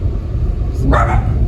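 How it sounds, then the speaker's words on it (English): A dog gives one short bark, a little distant, over the low steady rumble of a moving car. "So my dogs have seen something outside, by the way, so they might bark"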